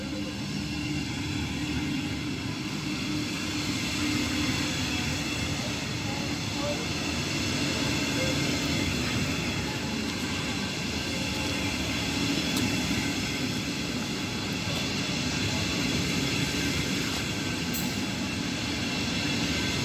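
A train runs through Uelzen station without stopping, producing a sustained loud rumble and rolling rail noise that stays steady across the whole stretch, close by.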